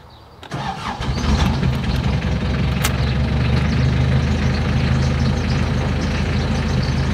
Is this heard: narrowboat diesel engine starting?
yes